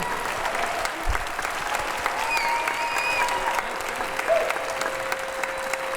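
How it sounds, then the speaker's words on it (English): A crowd applauding steadily for several seconds, a dense wash of clapping at moderate volume with no voices over it. "Another round of applause for these two."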